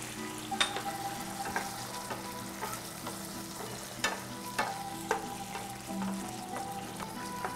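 Tomato sauce with garlic and onion sizzles steadily in a pan while a utensil stirs it, scraping and tapping against the pan every second or so, close and moderately quiet.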